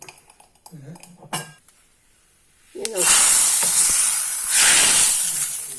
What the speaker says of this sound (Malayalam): ഇപ്പൊ കടുക് പൊട്ടിക്കഴിഞ്ഞു.